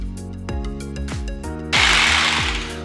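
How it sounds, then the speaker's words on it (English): A hammer drill chatters loudly and steadily at close range while breaking up floorboards, with a harsher, louder grinding burst near the end as the bit bites into the boards. "we'll take you through the tedious process of taking this out with this set hammer drill"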